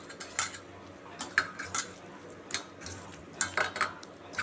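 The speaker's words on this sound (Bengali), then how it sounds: "এবার একটু সর্ষের তেল দিয়ে দেবো, ভালো করে মেখে নেব।" A spoon works mustard oil into a bowl of mashed taro paste, making close, irregular clinks and soft scraping strokes with no voices.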